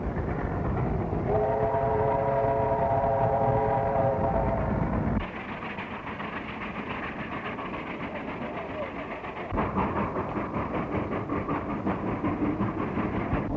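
A train running on rails in a 1931 film, heard as a steady loud rumble with a horn-like tonal blast early on, continuing as a heavy rolling clatter close by; a voice briefly speaks over it.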